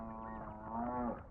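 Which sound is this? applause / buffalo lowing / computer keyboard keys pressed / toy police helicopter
buffalo lowing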